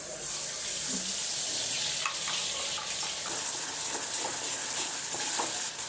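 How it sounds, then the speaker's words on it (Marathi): Brinjal hits hot oil for tempering, giving a loud, even hiss of sizzling close by with faint scrapes and clinks underneath, no voices. "तेल गरम झालं असणार पटकन फोडणी दिली भाजी"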